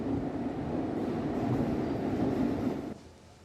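A train runs along the Jammu to Baramulla railway line through varied terrain, giving a steady, continuous low rumble of wheels and carriages that drops away sharply near the end.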